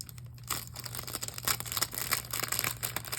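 Crinkly plastic packaging of craft supplies being torn open and crumpled, a run of sharp rustling bursts and crackles close by over a steady low hum, with no talking.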